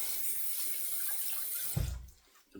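Tap water runs in a steady hiss as a shavette razor and plate are rinsed, then cuts off abruptly with a short splash and a final brief gush.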